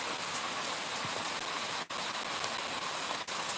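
A rainstorm arrives in rural Ceará, Brazil, as dense steady hissing rain pours close by, with two brief dips in the sound. No voices are heard.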